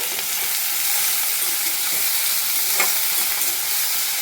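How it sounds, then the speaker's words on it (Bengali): Eggplant pieces frying in oil in a wok over high flame give a steady, dense sizzle throughout, with a faint brief clink near the end and no voices. "এই বেগুনটা আলাদা করে আগে একটু ভেজে নিতে হবে"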